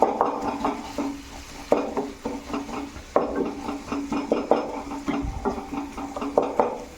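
Tomatoes being stirred and mashed in hot oil in a pan for a Telangana-style dried fish and tomato curry, with repeated scraping and clinking of a spoon against the pan over a faint sizzle, close and steady with no talk.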